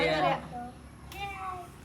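A voice imitates a cat's meow, a short, soft, drawn-out mewing sound following a quick burst of speech.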